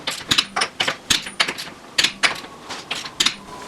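Torque wrench tightening wheel lug nuts to 75 foot-pounds in a star pattern, a steady series of sharp metallic clicks and ratchet snaps repeating every fraction of a second, close and fairly loud with no talking.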